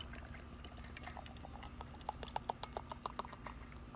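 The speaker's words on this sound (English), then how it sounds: "Give it the aggressive pour." Veltins Pilsener beer is poured aggressively into a glass outdoors, a soft gurgling splash followed by a run of quick fizzy crackles and pops as the foam rises, fairly faint and close.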